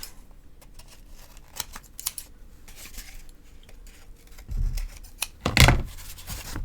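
Scissors trim mask material with a few soft snips and rubbing scrapes, quiet and close, with a louder cluster of cuts near the end.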